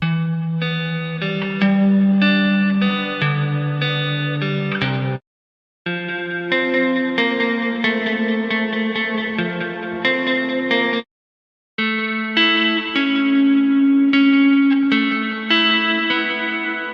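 A guitar plays a short chord pattern drenched in chorus, echo and distortion, repeated three times with brief silent gaps between passes.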